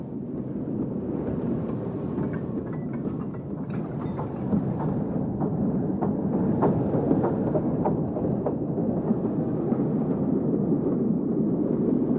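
Large Mallet steam locomotive at Château-Longueville station in northern Europe, a steady loud rumble of rolling train and running gear with faint rhythmic clanks, wind buffeting the microphone throughout.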